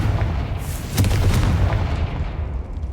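A Confringo fire spell blasts in Hogwarts Legacy, giving a booming, rumbling explosion with crackling bursts that swells near the start and fades over a few seconds.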